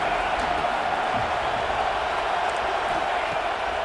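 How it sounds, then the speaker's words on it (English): A football stadium crowd roars in a dense, unbroken wash of cheering as the home defense lines up on third down, heard at a distance with a faint commentator's voice underneath. "Decibels rising as the crowd gets behind this defense on 3rd down."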